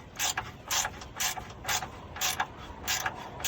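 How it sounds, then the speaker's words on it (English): Hand ratchet loosening bolts on a Honda Civic during a radiator, condenser and fan replacement, a steady series of seven rasping clicking pulls, close and fairly loud, with no talk. "I kinda like my ratchet better."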